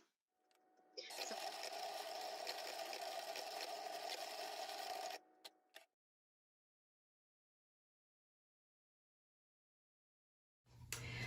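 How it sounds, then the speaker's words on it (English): A Cricut Explorer 3 cutting machine slicing removable smart vinyl gives a steady, loud mechanical whir with a motor hum for about four seconds, then stops, followed by silence and a brief final clunk. "it's sending all the information to the cutting machine"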